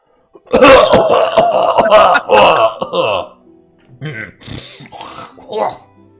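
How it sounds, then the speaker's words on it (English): A harsh, throaty cough and groan erupt loudly up close, followed by a few shorter, quieter vocal grunts and clearings. "You're met with a cough."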